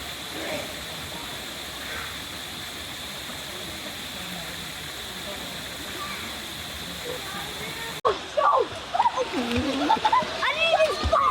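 Water splashing at a waterfall in Dumaguete, a steady rushing roar of falling water with irregular splashes, followed by closer, louder sloshing and bursts of movement near the end as voices talk nearby.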